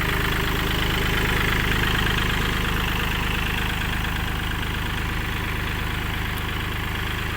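A 2019 Kubota L3218 tractor in original condition idles steadily with a loud, throaty exhaust, a continuous close-up rumble with an even knocking pulse and no talk over it.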